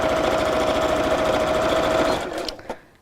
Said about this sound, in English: Right, so I'm just sewing across all of those lines.